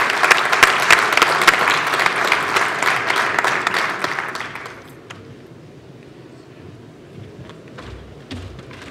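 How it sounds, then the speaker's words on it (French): Audience applause for a prize winner at an entrepreneurs' contest awards ceremony at a Canadian-Maghrebi trade fair, dense and lively for about five seconds, then thinning to scattered claps. "On applaudit"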